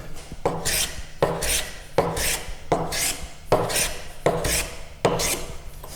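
A wooden dovetail halving joint is pared by hand with a chisel, about six rhythmic rasping strokes in six seconds, each a close, crisp scrape with a brief pause between.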